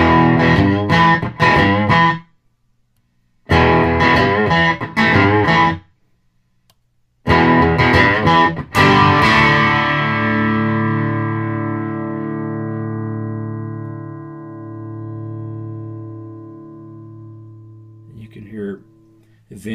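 An electric guitar played clean through a TightDrive Pro pedal with a noise gate chugs in short bursts that cut to dead silence between, then a final chord rings out and decays slowly.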